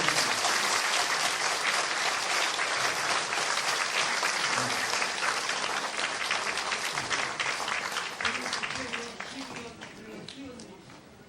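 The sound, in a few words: audience applause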